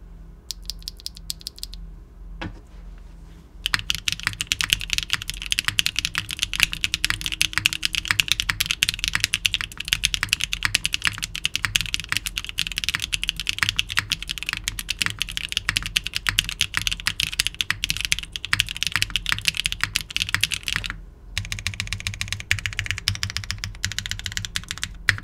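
Typing on a mechanical keyboard with lubed Cream+ switches fitted with copper inserts, a dense, close stream of clacky keystrokes that runs steadily for about twenty seconds with a few brief pauses.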